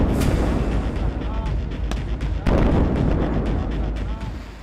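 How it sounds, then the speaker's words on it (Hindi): An Israeli missile strike in daylight in Lebanon, heard as loud, dense rumbling and sharp cracking blasts, with one especially strong hit midway through and sustained low roar throughout. "दिन के उजाले में लेबनान पर गिरी इजराइल की मिसाइल।"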